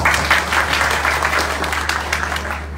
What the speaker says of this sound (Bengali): আপনাদের সবার জন্য একটা জোরে হাততালি।